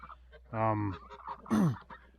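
Two loud harmonic honking calls from geese near a keeper's pen, spaced about a second apart, with faint background rustle between them.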